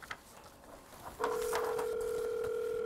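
A telephone tone plays while a phone call connects. A steady electronic tone starts partway in and holds unbroken to the end, clear and fairly loud over faint room noise.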